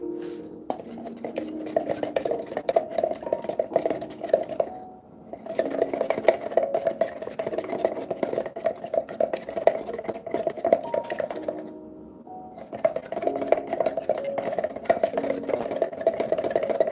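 A stirrer mixes dark screen paint in a container with a scraping, clinking, rhythmic motion that runs steadily throughout, pausing twice for a moment.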